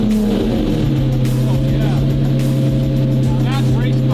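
A new Lamborghini's engine rumbles loud and close with a strong low drone, its pitch swelling and sweeping upward in short revs toward the end.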